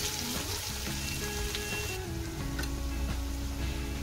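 Fish roe and onions fry in a hot pan with a steady, dense sizzle that runs without a break, with a few light clinks of stirring and no voices.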